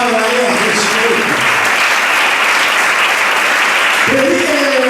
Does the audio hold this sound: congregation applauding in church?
yes